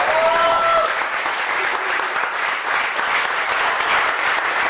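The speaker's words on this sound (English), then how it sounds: "if we can give them a big round of applause" An audience at a political fundraiser gives a sustained round of applause, dense and even clapping filling the room without pause.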